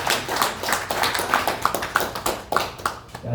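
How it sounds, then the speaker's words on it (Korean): A church congregation at a Korean Sunday worship service claps for the staff, with moderately dense, slightly uneven hand claps, some sharper and nearer than others, continuing steadily for a few seconds without speech. "우리 사모님 모두에게 박수 한번 쳐주시죠"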